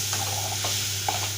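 Onion and tomato fry in a pan after salt goes in, as the base of a quick mushroom curry. A brief, close, steady sizzle plays under soft stirring scrapes, with no voices.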